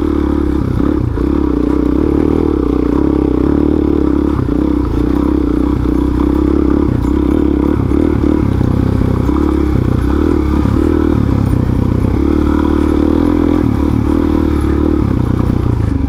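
A Suzuki DRZ400SM supermoto with about 19,000 miles and slick tires runs steadily while being ridden, its engine drone continuous and fairly loud, mixed with wind and road rumble, no speech.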